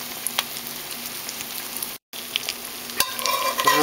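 Eggs frying over easy in a cast iron skillet, a steady close sizzle with crackling pops that briefly cuts out, then returns with a few louder spatters.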